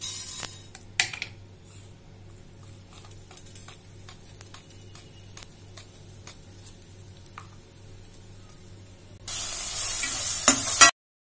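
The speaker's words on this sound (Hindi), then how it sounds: "पैन को धो के मैंने थोड़ा सा ऑयल डालेंगे" Coarsely ground spices fry in a little oil in a freshly washed pan. Quiet scattered clicks and faint ticking give way near the end to a sudden loud, close burst of sizzling.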